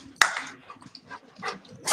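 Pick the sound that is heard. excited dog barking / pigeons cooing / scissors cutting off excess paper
excited dog barking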